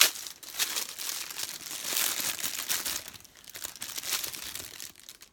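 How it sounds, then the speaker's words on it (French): Packaging for silicone Joy-Con protectors and small rubber pads for a Nintendo Switch being opened by hand, with continuous crinkling and rustling of plastic in repeated bursts, close and fairly loud, with no talk. "Je vais les déballer."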